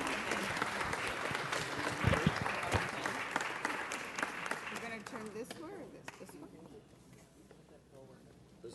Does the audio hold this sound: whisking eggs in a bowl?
no